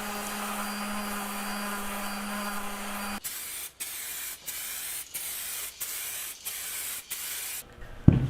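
Aerosol clear coat sprays onto a guitar body built from colored pencils, first a steady hiss lasting about three seconds, then a run of short, even bursts with brief gaps, ending in a sharp knock.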